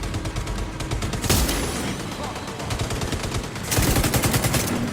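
Rapid automatic gunfire in The Division 2, a dense burst of shots, a brief pause, then another loud fast burst near the end, with a voice speaking between the bursts.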